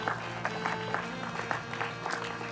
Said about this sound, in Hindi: इधर की तरफ ये शायका अंजुम के लिए जोरदार ताली हो जाए इनके लिए